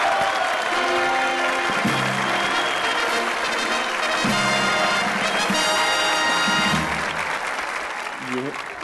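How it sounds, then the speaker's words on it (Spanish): Studio audience applause welcomes a political scientist onto a comedy show, sustained clapping mixed with musical tones and brief voices over it. "recibamos con un fuerte aplauso al politólogo que nos acompañará hoy en nuestra sección"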